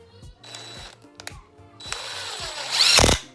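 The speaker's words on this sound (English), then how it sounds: "this is really helpful when it comes to screwing in your pieces to your wood. So all I did was just screw in just like that." A power drill driving screws into the wood of a dresser base being refurbished, with short bursts of whirring and a louder, sustained whine near the end, heard close up with no talk.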